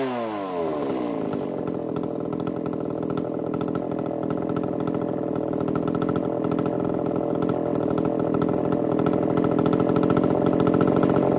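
A Japanese U10 chainsaw, a used market unit with two-bolt bar mount, runs steadily and loudly up close with a rough buzzing idle that holds for the whole stretch, no talking.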